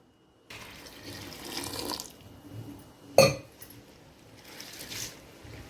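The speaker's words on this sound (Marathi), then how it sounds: "आता हे गहू आहे ना आपण तीन पाण्यानं स्वच्छ धुवून घेऊ" Water runs and splashes in a basin while wheat grains are swished and rubbed by hand, with a sharp clatter midway and steady sloshing throughout.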